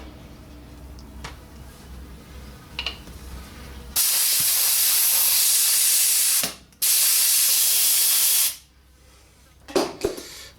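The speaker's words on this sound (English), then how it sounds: "I'm probably going to have to blow them out with a bit of compressed air." Compressed air blasts muck out of a Holden EH in a garage: two long, loud, steady hissing bursts with a brief break between them, followed by quiet and a few small knocks.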